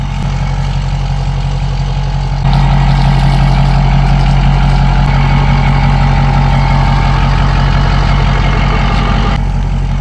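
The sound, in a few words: truck engine idling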